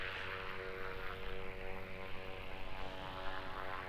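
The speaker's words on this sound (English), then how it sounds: "Airbus A380-800 flying Emirates flight 448 is registered Alpha 6 Echo Victor Juliet" Emirates Airbus A380-800 arriving at Auckland Airport from Dubai, a steady, fairly distant engine drone with a broad rumble and faint tonal hum that holds evenly throughout, no voices.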